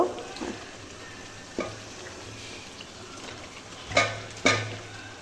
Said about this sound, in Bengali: এখন আমি ধুয়ে রাখা এগুলো ভুঁড়িগুলো দিয়ে দেব।